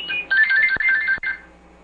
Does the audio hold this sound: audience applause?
no